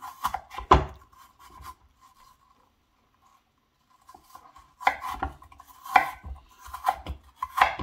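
A knife slices apples on a cutting board, with sharp close chops, a quiet pause, then a quick run of firm cuts striking the board.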